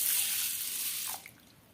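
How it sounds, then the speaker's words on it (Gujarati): Water rushes into a large pot holding half a bowl of urad dal, a loud steady pour that stops abruptly and leaves a few faint drips and trickles. "અને તેમાં પાણી નાખી દેવાનું"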